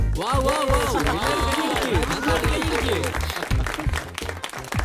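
A group gathered for a tree-planting event breaks into applause, with rapid clapping mixed with excited cheering and voices, loud and nearby.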